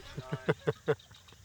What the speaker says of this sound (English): Oh wow, there's magpie geese.